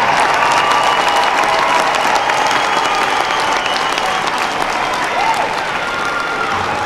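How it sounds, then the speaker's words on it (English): A large audience at a university commencement ceremony applauds in a dense, sustained roar of clapping that holds steady throughout with faint crowd murmur. "give them a round of applause"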